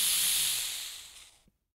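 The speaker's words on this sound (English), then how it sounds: "For this sound, I recorded a bike pump." A bike pump standing in for a pneumatic air compressor releases a sharp, bright hiss of air that starts loud and tapers off over about one and a half seconds, heard alone and close.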